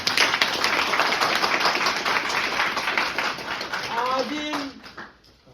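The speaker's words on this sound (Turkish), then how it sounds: "Bir alkış alalım." A classroom group claps together during an occupational health and safety management training session, a dense, loud patter of hands that fades near the end, with a brief voice heard toward the close.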